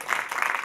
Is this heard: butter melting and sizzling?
no